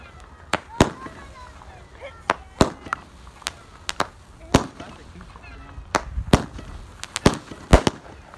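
Sky Comet fireworks burst in the Pyro Planet video game, a string of sharp, loud cracks and pops at irregular intervals over a quiet background.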